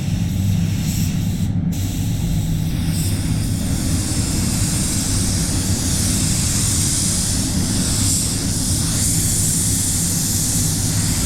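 Spray gun laying basecoat onto an Isuzu D-Max bonnet in a spray booth, a loud, continuous airy hiss with a deep rushing roar underneath that holds steady throughout.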